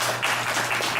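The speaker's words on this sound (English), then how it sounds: "Can we have a round of applause, please?" Brief audience applause after a presentation, a continuous patter of many clapping hands at moderate level.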